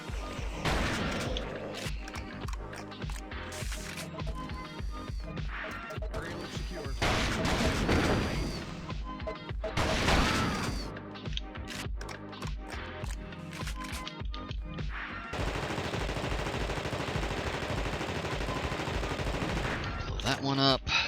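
Shotgun fire in the video game The Thing, heard as repeated loud blasts spread across the stretch and mixed with other crashing game effects, then a steadier dense rumble of action toward the end.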